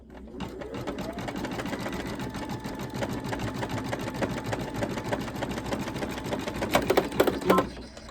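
A sewing machine stitches an Easter bunny table runner in a rapid, steady mechanical chatter with a brief louder clunk near the end as the needle falls out; a voice speaks faintly under it.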